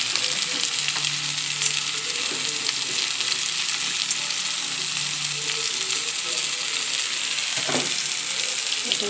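Peanuts sizzle and fry in hot oil beside taro greens in a pan, a steady, dense crackling hiss that stays even and close throughout.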